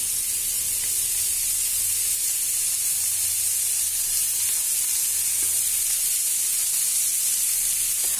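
Potato sabzi sizzles steadily in a pan after mango powder, coriander leaves, garam masala and green chillies go in, a continuous bright frying hiss with faint stirring, close and alone with no voices.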